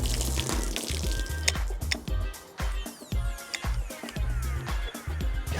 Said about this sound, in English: we've got a steady stream of water